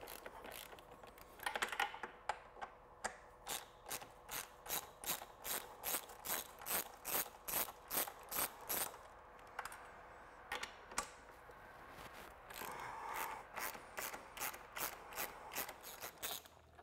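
A 10mm socket on a ratchet removes the rear rack bolts on a Polaris Scrambler quad, giving long runs of quick, evenly spaced clicks up close with brief pauses between bursts.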